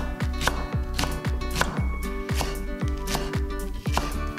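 A knife chops green onion (daepa) into thin rings on a cutting board, making about eight crisp, evenly spaced taps in a steady rhythm, close and clear with no talking.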